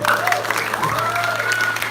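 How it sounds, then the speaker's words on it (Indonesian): Lively crowd applause at a prembon performance at Wantilan Pura Dalem Wanayu, continuous clapping and cheering mixed with a voice and sustained tonal music underneath. "Tepuk tangan yang meriah ini"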